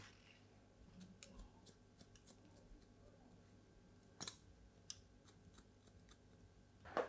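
Scissors snip through hair during a men's haircut that adds volume to straight, flat hair, faint short clicks scattered across the stretch with a few sharper, louder snips, close by over quiet room tone.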